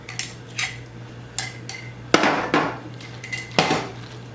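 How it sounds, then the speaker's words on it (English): Crab salad stirred in a bowl with a utensil: sharp clinks and knocks against the bowl, spaced irregularly, several louder scraping strokes in the middle, close up over a faint steady hum. "Give it a stir."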